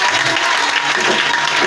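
A church congregation claps and cheers in a dense, continuous burst of applause that fills the room, with voices mixed into the crowd noise.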